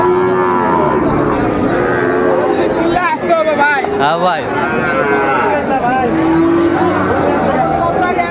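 A Sahiwal breed bull calf moos loudly and repeatedly at a busy cattle market in Dinajpur, its long drawn calls rising above constant crowd chatter and nearby talking.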